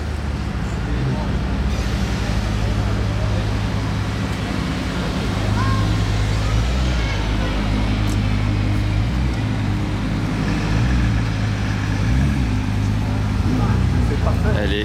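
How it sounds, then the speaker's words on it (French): A Ferrari F80 supercar pulls away at the Monaco Historic Grand Prix, its engine a loud, sustained low roar that shifts pitch as it drives off, with street noise and background voices around it. "Départ de la F80."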